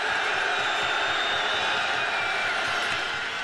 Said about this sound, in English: Crowd's getting into it now.